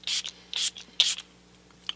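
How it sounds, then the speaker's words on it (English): Catrice Prime and Fine Dewy Glow fixing spray hisses out in three short close bursts, each a soft airy spritz, followed by a faint tiny click at the end, with no voices. "let's go in with a little bit of the Catrice Prime and Fine Dewy Glow Fixing Spray"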